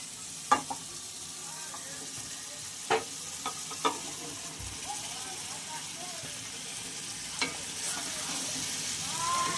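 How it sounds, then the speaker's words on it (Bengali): Fried chicken pieces stirred into a cooked spice paste in a pan, a soft low sizzle with a few sharp spoon knocks and scrapes, faint and close. "তো আমি মাংসটা দেওয়ার পর একটু নাড়াচাড়া করে নেব যেন মশলাগুলো মাংসের মধ্যে খুব ভালোভাবে লাগে"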